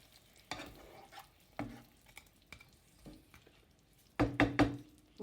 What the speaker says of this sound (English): I'm just going to stir them round to coat